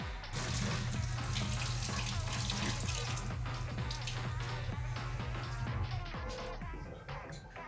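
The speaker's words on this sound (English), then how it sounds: "now I'm gonna go to the sink and rinse the shoelace." Water runs steadily from a tap into a sink, a continuous close splashing rush with small clatters of a sneaker shoelace being rinsed under it.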